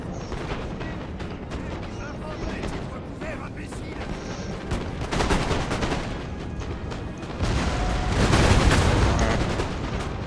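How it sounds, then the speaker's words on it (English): Artillery firing in Napoleon Total War, a dense rumbling barrage of booms and crackling gunfire, loud and continuous with heavier bursts, while someone talks briefly over it. "And actually, they're firing right over my militia."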